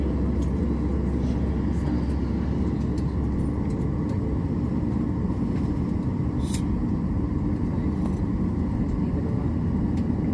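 A Delta airliner on its takeoff roll, flying from Columbus toward Minneapolis, heard from inside the cabin as a steady loud engine roar and rumble that continues throughout.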